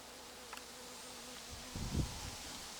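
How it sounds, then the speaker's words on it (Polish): Pollinating insects such as bees buzz around a thornless blackberry bush in a garden, a soft steady hum with a louder close pass near the end, no talking. "Mam nadzieję, że zbiera troszeczkę to bzyczenie."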